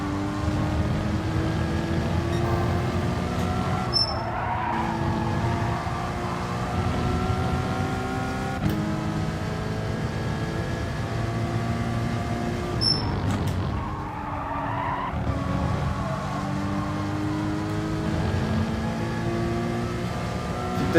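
Porsche Cayman GT4 racing at Laguna Seca in GT Sport, its engine note rising and falling steadily through repeated upshifts and corner braking, loud and continuous with no talk.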